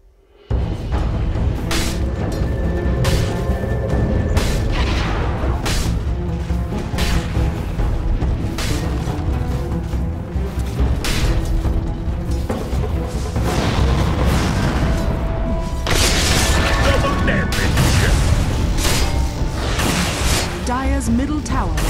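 Repeated booming explosions and bursts in a Dota 2 match while a tower is under attack, dense and loud throughout with sharp blasts every second or two, with a voice speaking over parts of it.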